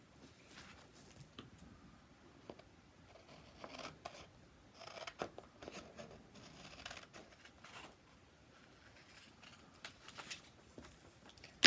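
Scissors cutting a paper square for a bookmark, a run of quiet, close snips and paper rustles in an uneven rhythm, with no speech.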